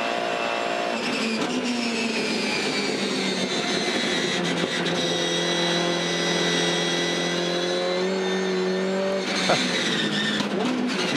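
V8 Supercar oversteering at Phillip Island during a race, its engine howling continuously up close while the tyres squeal through the slide, with gear changes and pitch shifts breaking the sustained roar.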